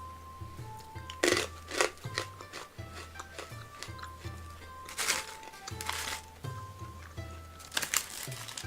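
Crunchy peas from a Japanese snack are chewed close up in a series of sharp, brittle crunches, several loud bursts separated by quieter chewing, under a faint low hum.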